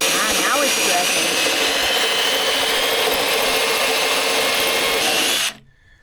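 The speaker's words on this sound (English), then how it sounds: "So that's opening up the spot welds. Oh, okay. That's a spot weld opening up tool." A spot weld cutter bit in a power drill cuts out spot welds on a Land Rover body panel. A loud, continuous high whine holds steady for over five seconds, then stops abruptly.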